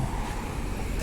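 Rail replacement bus TV 2461 on route 908 pulls away toward Cannington, a steady broadband engine and road rumble at moderate distance, with no voices.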